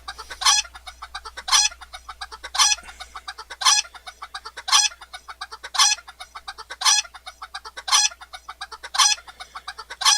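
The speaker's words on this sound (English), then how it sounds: "Chickens." Chickens cluck in a steady rhythmic pattern, with short clucks building to a louder squawk roughly every second, close and clear with no talking.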